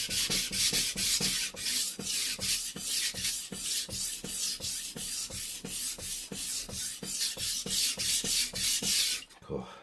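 Kitchen knife stroked back and forth across a Japanese whetstone, a steady rhythmic rasping of about two to three strokes per second, close and loud, continuing without talk until it stops near the end.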